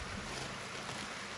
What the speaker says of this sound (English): little creek that's running here